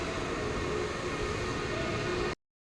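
A Taipei MRT metro train at a station gives a steady, loud broadband rumble and hiss that cuts off abruptly near the end.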